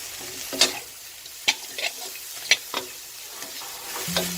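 Radish cake fries with chives and bean sprouts in a pan, with a soft sizzle under several sharp spatula scrapes and clacks spaced about a second apart.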